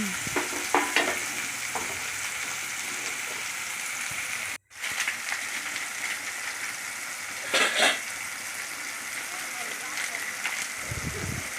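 Ground spices with salt, turmeric and cumin powder stir-fried in oil, scraped and turned with a metal spatula in a pan, a continuous close sizzle with scraping strokes and a brief break midway.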